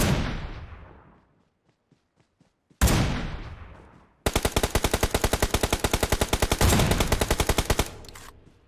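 Gunfire in the PUBG Mobile battle royale game: two single sharp shots ring out and decay, then a long rapid automatic burst of evenly spaced loud reports lasts about four seconds.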